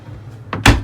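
A drawer in a first-year university dorm room slides and bumps shut, a short scrape followed by a dull knock, close and alone.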